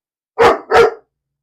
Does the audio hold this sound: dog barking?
yes